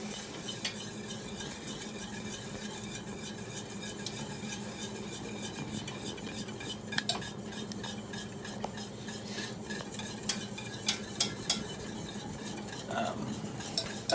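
Thick honey caramel being stirred in a heavy-bottomed pan, a steady scraping and swishing texture with occasional sharp utensil clicks against the metal, close and continuous with no talk.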